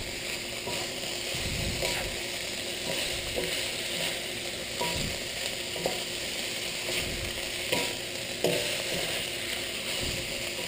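Milkfish stuffing sautés in a pan with a continuous, fairly quiet sizzle, broken by occasional scraping knocks from a stirring utensil.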